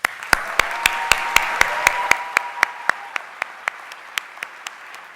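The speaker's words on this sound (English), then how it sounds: "please join me in giving them a round of applause." Scattered, sparse clapping from a small group at a graduate convocation, with distinct individual claps at a steady pace that thins out toward the end.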